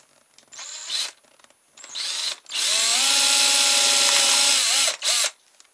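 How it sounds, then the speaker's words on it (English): A power drill boring holes in soft scrap metal, used as a frame for a toy skateboard axle: two short whirring bursts, then a long steady loud drilling run and a final brief burst, close up with no talk. "So I'll drill a couple of holes in it."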